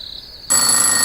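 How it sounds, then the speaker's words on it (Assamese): Telephone ringing in an Assamese radio drama scene; a faint high tone gives way halfway through to a loud, sustained electronic ring that carries on to the end. "ফোনটো আকৌ বাজিছে।"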